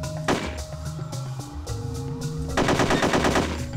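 Video game gunfire in Hitman: Codename 47: bursts of rapid automatic shots, with an M16 in play, crackle in quick rhythmic volleys, a longer sustained burst near the end, loud and close with no talking.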